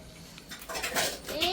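Metal cooking pots clank and rattle as they are set down and handled near a stove, a few close knocks and ringing scrapes in a busy room with faint voices.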